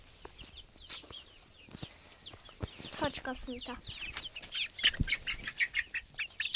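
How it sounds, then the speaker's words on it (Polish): Roosters and hens in a backyard flock cluck and call in short bursts with some wing flapping, growing busier toward the end, while a person talks nearby. "Ten jest kogutem."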